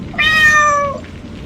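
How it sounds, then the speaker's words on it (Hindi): A black cat yowls once, a loud, close, drawn-out cry lasting under a second, stuck in mud in the rain. "एक काली बिल्ली कीचड़ में बुरी तरह फंसी हुई थी। वो जोर जोर से चीख रही थी।"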